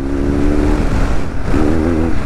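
A 1200 cc, 100 horsepower adventure touring motorcycle engine runs loud and close, holding a steady droning note before rising in a brief rev midway.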